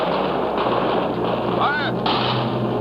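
Rifle volley from a line of defenders firing on command in a period battle scene, a loud sustained burst of gunfire and rumble filling the whole moment over background noise, with voices faintly present.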